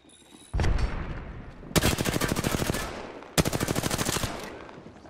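Rapid bursts of automatic gunfire in a shooter video game: a heavy opening blast, then two long, steady strings of close, loud shots with a brief pause between them, and no talking over them.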